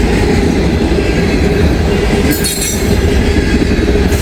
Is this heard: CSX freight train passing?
yes